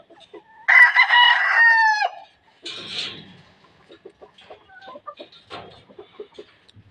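A white legged sweater gamecock crows loudly and close, one full cock-a-doodle-doo, followed by softer clucks and scattered farmyard bird sounds.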